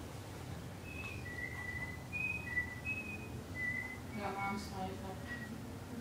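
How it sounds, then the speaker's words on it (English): Someone whistles a soft, wandering melody in the background, a series of short sustained notes, faint under a low steady hum, with brief quiet speech near the end. "Got my dad whistling in the background."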